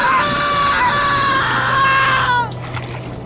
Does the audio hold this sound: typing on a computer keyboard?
no